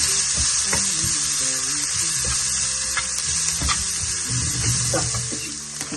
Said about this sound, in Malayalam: നന്നായി വീണ്ടും ഇളക്കിയെടുക്കാം